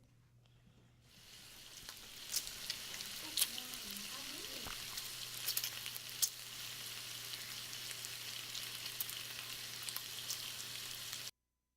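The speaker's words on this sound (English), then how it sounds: "Frying on a stove." Steady crackling sizzle of food frying in a pan, a dense hiss with scattered pops that starts softly and settles into a continuous close-up sizzle.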